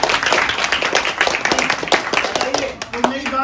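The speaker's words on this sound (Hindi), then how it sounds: "तो एक बार दोनों के लिए जोरदार तालियां" Enthusiastic applause and clapping from a crowd greeting the cartoon characters Motu Patlu at an All India Radio event, steady and fairly loud for a few seconds, with voices talking over it.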